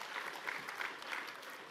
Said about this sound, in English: you can clap for Shabbos